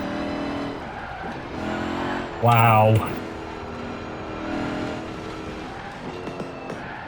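A Bowler EXR S offroader supercar accelerates hard, its engine roaring loudly up close with a sharp burst and exhaust crackle partway through, and a person briefly exclaims over the noise.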